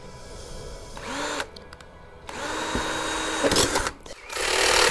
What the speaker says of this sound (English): I'm going to drill holes in it for the conduit as well as drill holes in it for the